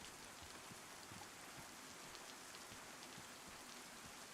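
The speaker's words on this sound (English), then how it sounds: "the rain is really coming down today in the game." Steady rain falls in the survival game DayZ, a dense, even hiss of drops across the whole span, quiet and uninterrupted with no voices.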